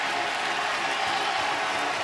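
Baseball crowd at Charles Schwab Field in Omaha during an MCWS Finals game between North Carolina and Oklahoma, a steady broad roar of cheering and applause from fans on their feet, sustained and even throughout without any break.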